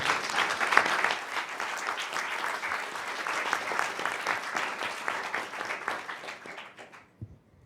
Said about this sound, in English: I would like or invite you to give a big applause to all of our speakers.